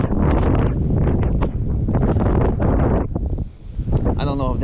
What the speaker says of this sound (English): Oh, of course, the wind.